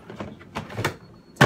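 The water-catch drawer of a plastic floral dish drainer slides with a few soft scraping rubs, then a sharper, louder knock at the end.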